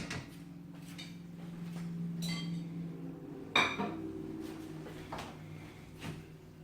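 Utensils clink and scrape against a pan or bowl while lemon shrimp spaghetti with capers is tossed and mixed, with one sharper metallic knock midway over a low steady kitchen hum.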